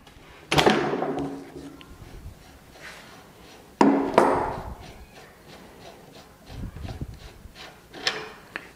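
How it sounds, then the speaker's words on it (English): A wrench unscrewing an A2 flash hider from a rifle barrel, with two sharp metallic knocks about three seconds apart followed by lighter scraping and clicking handling sounds, close and otherwise quiet. "You're just going to adjust your wrench to the proper size and torque it off."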